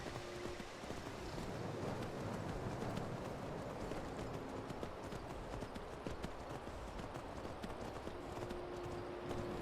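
Horse hooves clip-clop steadily at a running pace in the fantasy video game Skyrim, a continuous rhythmic patter over a windy outdoor ambience.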